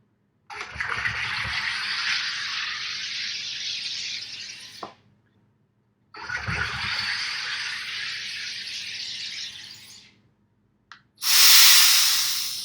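An aarke Carbonator 2 fires two long, loud hissing blasts of gas into fresh water, each lasting about four seconds with a pause between, followed by a brief sharp pressure-release hiss.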